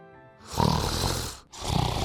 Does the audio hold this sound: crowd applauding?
no